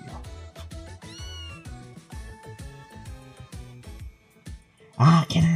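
A cat stuck in a tree in a video game meows repeatedly over looping game music, with a louder burst of meowing at the end.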